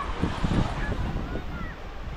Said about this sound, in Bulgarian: морето е спокойно днеска, въпреки че има малко вятър